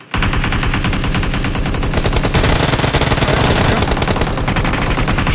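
Gunfire in the mobile battle royale BGMI: a loud, sustained stream of rapid automatic shots, dense and close, running continuously with no talk over it.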